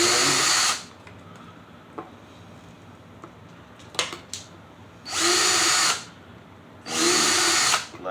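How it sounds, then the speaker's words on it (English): A power drill bores rows of small air holes in a spider enclosure: three loud close whirring bursts, separated by quieter pauses with light handling clicks. "I just come in here and just do a row of holes about a 1/4 inch apart on both ends"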